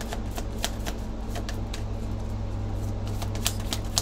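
Tarot cards shuffled and drawn close by: a steady run of quick, crisp riffling flicks over a constant low hum, with no talking.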